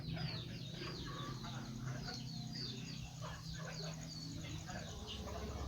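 Chickens clucking in a rural farmyard, several birds chattering in overlapping bursts at moderate distance, steady through the whole stretch with low background noise and a faint voice underneath.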